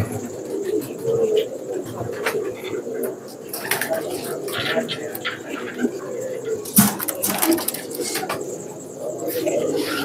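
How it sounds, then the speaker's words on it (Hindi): Red Phanair pigeons coo in soft, repeated low calls with occasional wing flaps and chirps, under a steady background of voices and movement. "ये दोस्तों लाल फनियर कबूतर।"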